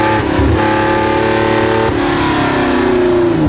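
A Porsche 910 race car engine accelerates in third gear, a loud, close, raspy roar whose pitch climbs steadily through the rev range, briefly dips, then climbs again.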